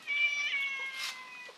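A cat in a backyard lets out a single drawn-out meow, close and clear, fading toward the end.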